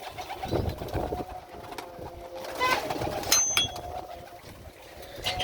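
Pigeons coo in soft, repeated low calls over a steady background rumble, with a few sharper bird chirps mixed in.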